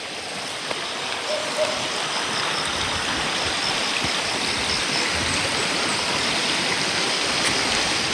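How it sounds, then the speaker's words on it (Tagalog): Steady rushing water of a flowing river, a continuous broadband wash that stays constant throughout with no pauses. "Mahaba-haba din yung ilog na to."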